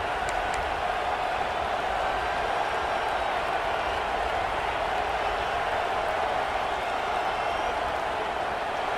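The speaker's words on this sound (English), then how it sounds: "This dog crowd is off the leash, and they are coming after them, bringing noise on 3rd down." Crowd noise from a football video game fills the stadium on third down: a dense, unbroken roar that holds at a constant loud level throughout.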